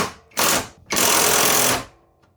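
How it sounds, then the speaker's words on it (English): Deep 13mm socket on a ratchet snugging down mounting hardware for a retractable ratchet strap on a camper, heard as two loud close bursts of rapid clicking, the second longer. "And now with a deep 13mm socket, let me get this over the mounting hardware. Now snug it down."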